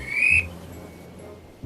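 A short high whistle from a train engine sounds clearly for a fraction of a second, then stops, leaving a low rumble behind it.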